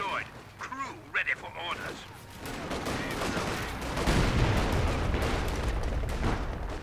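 Machine gun fire and battle noise in the real-time strategy game Company of Heroes 2 build into a dense, continuous rumble of shots and blasts, with a voice speaking over the opening seconds.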